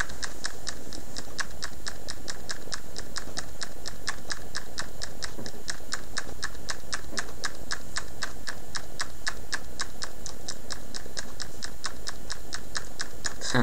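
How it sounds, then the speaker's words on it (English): Steady, even tapping on computer keyboard F keys during a Tibia game session, a fast regular clicking rhythm kept up nonstop at close range with no talk over it. "Tapping the F keys is quite a priority in this."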